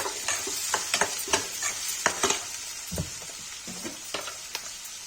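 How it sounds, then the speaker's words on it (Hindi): Chopped onion fries in hot oil for a black chana curry, with a steady close sizzle under repeated scraping stirs of a spatula against the pan. "गाइस देखिए इसमें प्याज डाल दिया है।"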